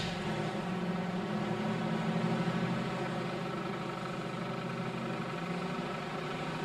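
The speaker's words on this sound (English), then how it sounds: "there is a definite rattle under the hood" A car idling with a rattle somewhere under the hood, heard as a steady, fairly quiet engine hum with a faint continuous buzzy texture and no speech.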